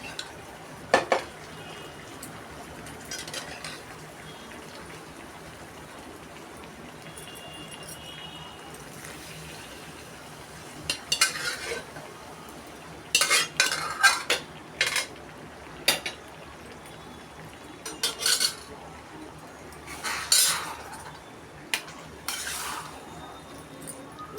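A spoon clinks and scrapes in a pan as boiled chana dal is stirred into a capsicum curry, scattered metallic taps over low background hiss, with no voice.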